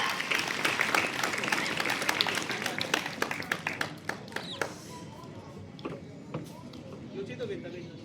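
Audience at a school event applauds a children's number-game performance, steady clapping that thins out halfway into scattered claps while voices talk over it.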